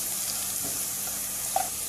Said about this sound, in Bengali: দেখতেই পাচ্ছেন পেঁয়াজটা আমি সুন্দর লাল করে ভেজে নিলাম